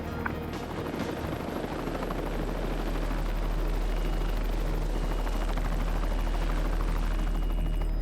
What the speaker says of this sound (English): we got the call that the helicopter's on its way now